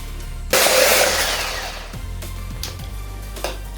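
An electric hand mixer starts up abruptly and whirs loudly as it beats a cream puff batter made with egg whites, the steady motor drone easing slightly and continuing throughout, with a few faint knocks against the bowl.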